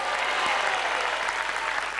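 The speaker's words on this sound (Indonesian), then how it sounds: "Terus tepuk tangan untuk Guna." A television game-show studio audience claps steadily, a dense continuous burst of applause throughout.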